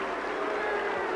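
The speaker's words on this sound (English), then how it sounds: "The roars of applause for Brendan Foster as well." Crowd noise in a stadium at a 1979 athletics meet, a dense, steady wash of roaring applause heard from a distance, with no clear individual claps.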